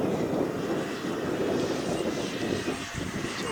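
A 3D printed Cessna DragonFly model aircraft flies on its maiden flight, its propeller motor giving a steady, continuous drone held at an even level throughout, with no voices.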